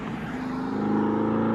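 A loud Chevy Camaro SS 6.2L V8 exhaust revs up close, its deep rumble rising and holding steady with a throaty, pulsing drone.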